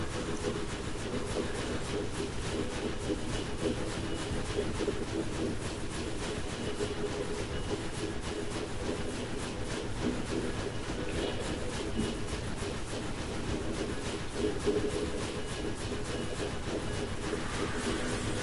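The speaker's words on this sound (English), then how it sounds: "This train is glorious." A video game train runs on rails with a steady rumble, rhythmic clickety-clack and hiss, loud and unbroken throughout with no voices.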